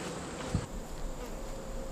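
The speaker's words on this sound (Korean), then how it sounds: "최근에 갑자기 증가했다는 외래종 말벌" An invasive alien wasp gives a faint, steady buzz, heard alone against a quiet background with a brief soft bump partway through.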